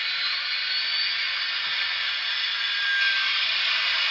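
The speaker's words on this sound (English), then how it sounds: "Hear the dynamo crank up." A steady, hissing mechanical whine from the dynamo sound of a Broadway Limited brass UP 4-12-2 model steam locomotive with Paragon 3 sound, holding constant for several seconds with no voices.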